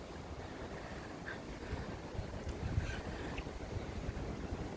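Surf rolls onto Clovelly Beach in a low continuous wash, soft and distant with wind rumble over the microphone, no talk.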